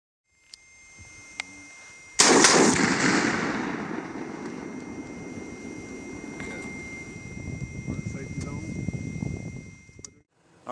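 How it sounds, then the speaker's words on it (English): Rifle fire from an AR-10 during a night hog hunt in an open field: one loud, sharp report, then a long echoing decay across the field, with faint clicks before and another sharp crack near the end. "so Brian, good shooting"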